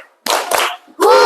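Classroom of students performing the rhythmic 'tepuk semangat' spirit clap: two loud, close bursts of group clapping, then a voice chanting after a short pause.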